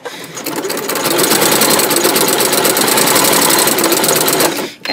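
A sewing machine sews elastic onto a small dog bow tie in one loud, continuous burst of rapid whirring stitches, close up, before halting just at the end.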